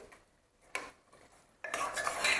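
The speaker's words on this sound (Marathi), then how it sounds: "अगदी बारीक गॅस करायचं आणि असं मिक्स करून घ्यायचं" A spoon stirs yogurt into mutton korma masala over a very low flame: two soft scraping strokes, then a brighter, louder wet stirring and faint sizzle that fills the final second, close up with no voices.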